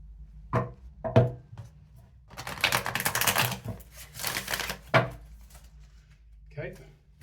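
A deck of tarot cards is shuffled by hand, with a few crisp taps and then a long burst of riffling clatter, followed by more scattered taps and a final short flutter.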